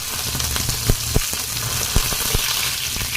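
Curry leaves dropped into hot oil in a pan, giving a steady, bright sizzling hiss with a few sharp pops and crackles spread through it.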